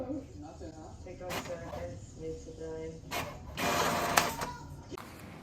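A home printer runs off alphabet sheets, giving bursts of mechanical whirring and feeding noise over a low room hum. The loudest, busiest stretch comes near the end.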